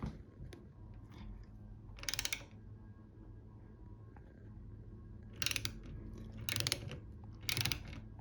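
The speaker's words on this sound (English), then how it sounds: "any self-respecting bike mechanic absolutely needs a torque wrench" A torque wrench clicks faintly while a bike saddle bolt is tightened on an S-Works Power saddle, giving a few separate short bursts of ratchet-like clicking over a low, quiet background hum, with no talking.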